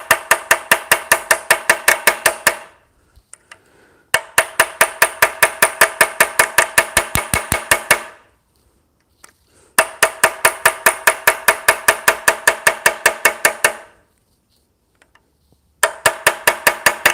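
Metal is hammered by hand in four runs of rapid, evenly spaced blows. Short silent gaps separate the runs, and the sharp, loud strikes ring out with no talking.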